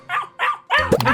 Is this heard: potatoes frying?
no